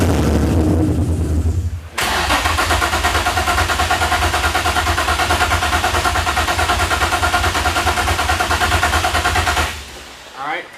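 A car engine, freshly back together after a timing chain repair, catches and runs hard and loud up close with a steady roaring rev for about eight seconds before cutting off abruptly.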